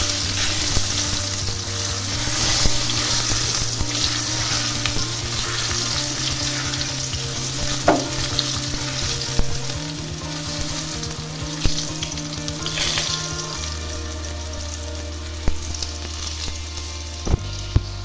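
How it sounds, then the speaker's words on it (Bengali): Potatoes coated in salt and turmeric fry in oil in a pan, giving a continuous close sizzle with a few sharp clinks and stirring scrapes, plus a low steady hum underneath, no talk. "আলু যেগুলোকে মাখিয়ে রেখেছিলাম নুন হলুদ দিয়ে, সেইগুলো হালকা করে ভেজে নেব"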